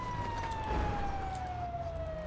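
A wailing fire truck siren in GTA 5 sweeps slowly downward, loud and steady against a background of game noise.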